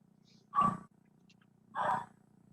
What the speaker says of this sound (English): We heard a dog barking on the background.